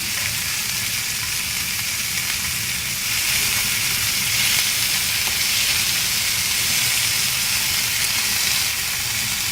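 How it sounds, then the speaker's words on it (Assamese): Tomato, onion, coriander, chilli and garlic fry in a pan for a tomato and dried fish chutney, a loud continuous close hiss and sizzle that holds steady with no pauses. "প্ৰথমে মই যিখিনি ৰেডি কৰি থৈছোঁ বিলাহী, পিঁয়াজ, ধনিয়া, জলকীয়া, নহৰু, সেইখিনি মই প্ৰথমে অকণমান ভাজি ল'ম"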